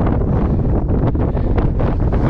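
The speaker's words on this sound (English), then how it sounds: "wind has died down a little bit." Wind at Camp 2 high on Aconcagua, a loud, continuous roar buffeting the microphone with gusty surges and no voices.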